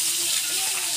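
Cooking oil in a pan sizzling and hissing with a dense, bright crackle, close and steady, while someone talks.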